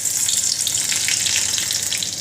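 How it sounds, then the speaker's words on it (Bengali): Hot oil sizzling in a pan while cooking a curry, a steady bright hiss that stays loud and even throughout with no talking. "তেল গরম হয়ে গেছে, দেখতেই পাচ্ছ"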